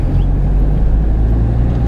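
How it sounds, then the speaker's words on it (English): Car engine idling while warming up, a steady close low rumble with a constant hum, unchanging and alone for two seconds. "let my car warm up for a minute."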